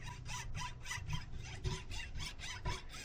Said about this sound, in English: This is a very tiny kerf saw. It's a razor saw.